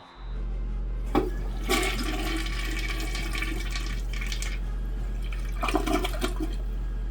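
A toilet flushes close by, a loud rushing of water that starts abruptly and churns steadily for several seconds, with gurgling surges and a low constant hum underneath.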